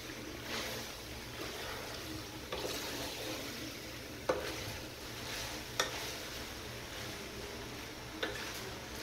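Macaroni is stirred in a pan with a soft, continuous hiss and swishing strokes, plus a few light utensil taps against the metal, quiet and close with no talking.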